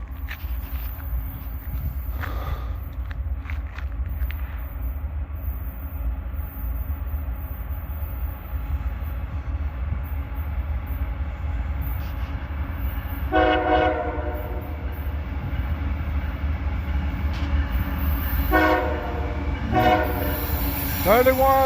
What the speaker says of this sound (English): he's coming down the track. He's a coal train.